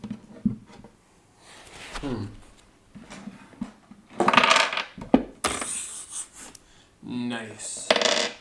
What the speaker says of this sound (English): So we put the dice up here.